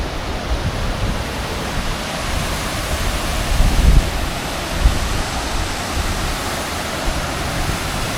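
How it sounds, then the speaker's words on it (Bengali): Monsoon waterfall in Jharkhand, a steady broadband roar of falling water that holds constant throughout, with a few brief low thumps and no voices. "নিচে জলটা পড়ছে।"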